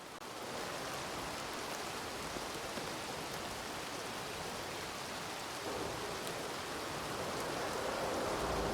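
Steady rain falls in a video game, a dense, even hiss of downpour holding at a moderate level throughout with no talk over it.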